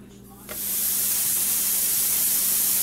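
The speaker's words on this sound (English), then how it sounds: "Listen to that sizzle." Salted and peppered Aldi burger patties hit a hot George Foreman grill, and after a brief quiet start a loud, steady, close sizzling hiss sets in and holds to the end.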